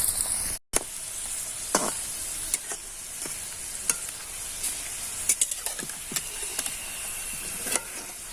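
Steady crackling sizzle of egg and potato snacks frying in hot oil, close up, with occasional sharp pops and light scraping of a utensil.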